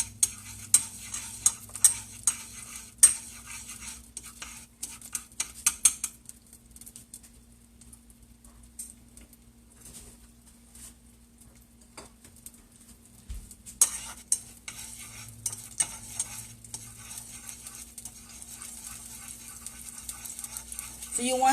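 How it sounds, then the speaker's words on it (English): Soft sizzling of garlic frying in a pot, with occasional stirring clicks and scrapes; a quieter stretch in the middle before the sizzle returns. "So I hear the garlic sizzling."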